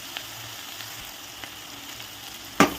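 Okra curry sizzles quietly in a pan, a steady soft crackle of frying with faint stirring touches, ending in a sudden sharp clatter near the close.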